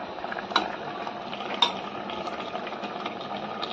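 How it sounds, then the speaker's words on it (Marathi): Chicken is stirred and sautéed in hot oil in a pan, with a soft, low sizzle, light scraping, and two sharp utensil knocks close by. "आणि त्याच्यामध्ये हे चिकन टाकून मस्त असं परतून घ्यायचं."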